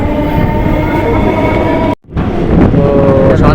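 A train pulls out of Sondalia station with a loud, steady rumble and tonal hum of rolling stock, heard from on board, briefly cut by a sudden dropout before the roar resumes.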